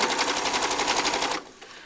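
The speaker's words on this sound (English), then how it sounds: "Then you just top stitch up the seam and catching the other little seam underneath there." A sewing machine top stitches up a mock flat-felled seam on fabric, running steadily and rapidly up close for over a second before stopping abruptly into quiet.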